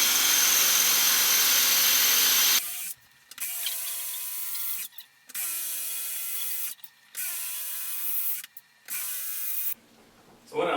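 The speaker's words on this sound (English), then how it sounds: "sometimes drilling these holes can take a minute" Cordless drill boring holes for a glass shower door installation, running in repeated bursts of a few seconds with short pauses between them, a close, harmonic motor whine after a stretch of broadband noise at the start.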